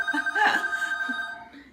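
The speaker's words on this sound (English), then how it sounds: "I'm sorry for the phone interruption." Telephone ringing indoors in a home kitchen, one steady electronic ring tone that sustains through the short moment, with faint voice-like sounds underneath.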